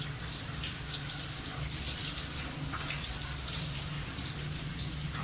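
A shower runs steadily in an audiobook scene, a continuous hiss of spraying water with a low hum beneath, unbroken throughout.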